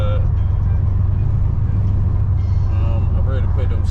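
Deep, steady idle rumble from a Dodge Charger R/T engine running with a muffler delete, a constant low drone filling the whole stretch with a voice faintly present beneath it.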